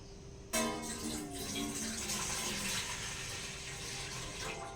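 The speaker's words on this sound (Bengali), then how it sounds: "জল দিয়ে দেবো" Water pours from a vessel into a pot on an electric heater, a sudden start followed by a steady splashing gush that continues close and fairly loud for several seconds.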